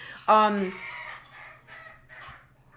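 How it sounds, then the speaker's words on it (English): A loud squawk from a chicken, followed by several quieter agitated clucks and cackles, close by against a faint steady hum. "My chickens are freaking out right now."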